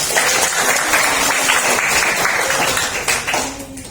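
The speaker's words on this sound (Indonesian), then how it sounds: "Tepuk tangan untuk kita semua" A class claps together at a teacher's prompt during an Islamic religious education lesson, dense continuous applause at close range that thins slightly toward the end, with a faint voice underneath.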